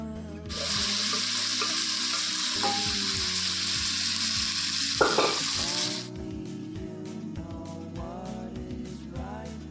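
Steady loud sizzling of boiled potatoes and beetroot frying in a pan, with scraping and stirring clatter, the hiss dropping away partway through as stirring continues.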